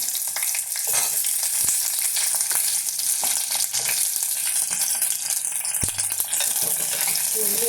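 Chopped onion frying in a hot pan for a cluster bean and shallot curry, a steady close sizzle with occasional stirring scrapes and clicks throughout.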